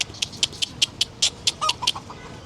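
Farm chickens out feeding give a quick run of clucks, about a dozen short, evenly spaced calls, fairly close and with no talk.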